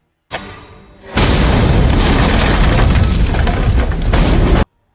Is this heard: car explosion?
yes